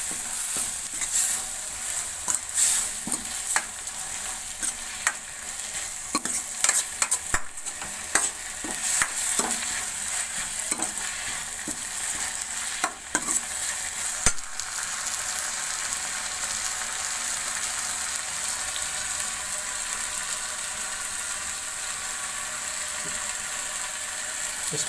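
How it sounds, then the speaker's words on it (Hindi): Garlic frying in a pan for garlic chutney while being stirred, with a steady close sizzle and irregular scraping and clinking of the spoon against the pan, louder in bursts, with no talk. "लहसुन डाल के अच्छी तरह से इसको हिला दें।"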